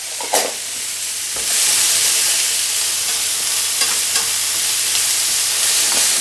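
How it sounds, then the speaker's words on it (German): Mushrooms, zucchini and Brussels sprouts fry in a pan with a steady, loud broadband sizzle that swells after a brief opening scrape, broken by a few spatula stirs. "So, jetzt braten wir alles schön ein."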